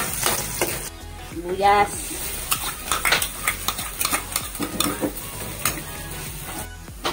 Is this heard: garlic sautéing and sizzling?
yes